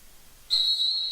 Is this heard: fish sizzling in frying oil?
no